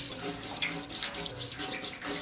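Tap water runs and splashes steadily while a motorcycle fuel tank from an old sidecar motorcycle is washed, a close, continuous hiss with small irregular spatters.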